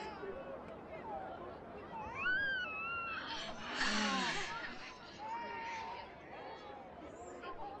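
A child screams and wails loudly in rising and falling cries, with adult voices and background chatter around it.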